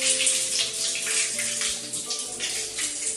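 Water gushes from the tap of a newly installed water heater, a loud, steady hissing splash with faint tonal hum beneath.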